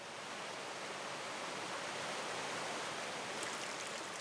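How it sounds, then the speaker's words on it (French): A small mountain stream at the source of the Durance in the Hautes-Alpes rushes steadily, a dense even hiss of flowing water, close and continuous with no voices. "la Durance n'est qu'un petit ruisseau lorsqu'elle rejoint son premier affluent"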